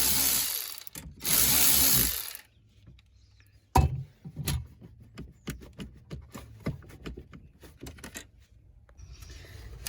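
A 10 mm ratchet loosens the negative battery terminal on a 2016 Dodge Charger R/T 5.7 during a starter replacement. Close, quick clicking pawl strokes come in bursts, with a louder clunk partway through and metallic handling noises.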